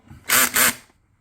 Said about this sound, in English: go back to my 5/32 drill bit